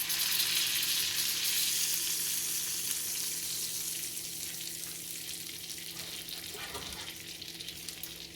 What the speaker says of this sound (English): In the same butter, I am going to toast the broccoli.